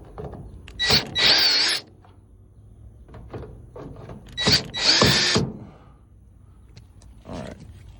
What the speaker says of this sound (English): We can left hand unscrew these here.